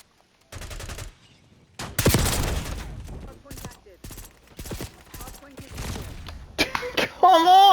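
Gunfire in the Black Ops video game: several sharp bursts of shots, loud and close, separated by brief gaps, with a voice speaking and exclaiming over the action.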